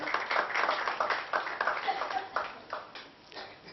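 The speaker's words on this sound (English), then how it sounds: "Let's have a huge round of applause for all the gentlemen" Audience clapping at a Mumbai book launch, a steady patter of many hands lasting a few seconds and tapering toward the end, with no speech over it.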